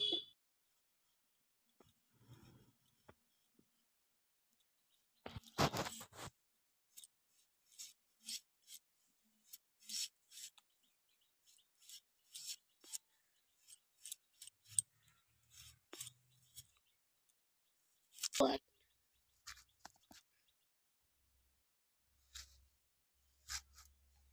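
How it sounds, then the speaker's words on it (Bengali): Potatoes being cut into pieces with a knife in a home kitchen, producing sparse, quiet crisp slicing clicks and chops with long silent gaps between, close and faint. "আমি সব আলুগুলো কেটে এইভাবে পিস পিস করে নেবো"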